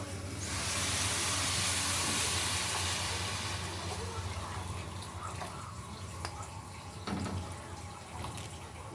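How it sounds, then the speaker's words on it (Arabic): Water poured into a cooking pot, a soft rushing splash that is strongest at first and then tapers, followed by faint drips and clinks, with quiet voices nearby. "ونحط له بقى الميه بتاعته"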